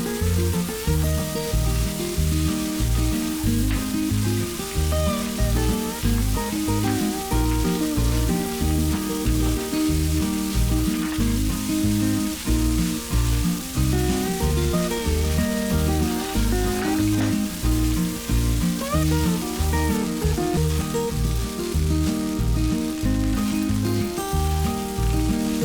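Basmati rice with dark soya sauce and chopped coriander leaves sizzling loudly and continuously in a pan, a dense, even crackle with no voices.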